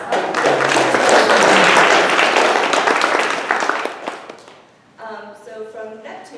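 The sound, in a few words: meeting audience applause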